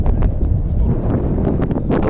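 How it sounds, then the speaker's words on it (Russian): Strong wind at a riverbank near Astrakhan buffets the microphone with steady, loud, low rumbling gusts that run through the whole moment. "Мне кажется, ветер маленько не так, что ли, да, дует?"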